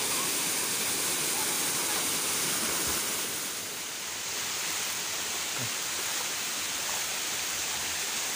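A waterfall rushes near a stream, a broad steady roar of falling water that fills the whole span, close and loud with only a slight dip partway through.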